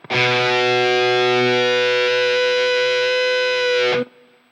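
High-gain electric guitar through a Freqout feedback pedal and noise gate: one loud, distorted chord sustained for about four seconds with a steady, blooming harmonic feedback tone, then cut off cleanly.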